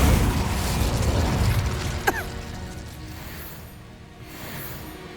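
An Incendio fire spell cast in Hogwarts Legacy, a sharp single burst with a bright crackling pop followed by a whooshing, mechanical rumble that fades off, no voices.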